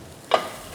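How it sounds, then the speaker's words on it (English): A spoon is drawn once through a pot of vegetables and onions, giving a single short, close scraping swish that fades quickly into quiet. "Let's give our pot one more stir."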